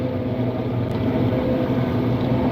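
A farm tractor drives through a field, its engine a steady loud rumble and drone that runs continuously without any talk.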